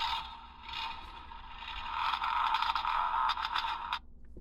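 A Transformers Rise of the Beasts Bumblebee toy in vehicle mode plays an electronic sound effect at the press of a button, a bright buzzing tone that swells for about four seconds, then cuts off, close and alone.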